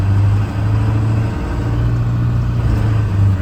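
A truck with a T444E engine and Allison transmission shifts roughly into second gear, with a steady low engine drone and brief dips in tone.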